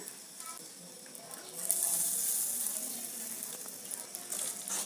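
Asafoetida powder tipped into hot oil for homemade citron pickle gives a bright, steady hiss of sizzling frying that swells midway. A person talks faintly alongside it.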